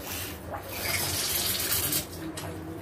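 Water gushes steadily down a blocked toilet drain in a comfort room being unclogged by hand, a continuous splashing, rushing flow that swells and eases slightly, close and fairly loud with no talking.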